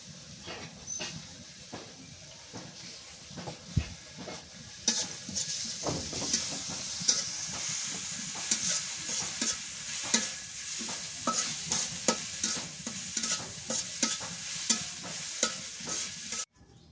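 Coriander leaves fry in hot mustard oil, giving a close, continuous sizzle broken by frequent sharp stirring scrapes and crackles.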